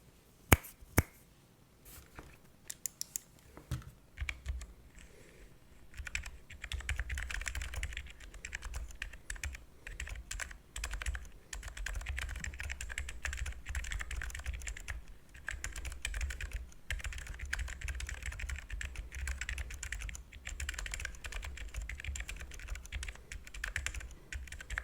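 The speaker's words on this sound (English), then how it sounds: "I built this Lily58 using Kalebox Silent Brown switches, which is my favorite silent tactile switch." Typing on a Lily58 split keyboard fitted with Kalebox Silent Brown tactile switches, with a few sharp isolated clicks at first, then a long run of soft, muffled, rapid keystrokes at a low, quiet level, no voices.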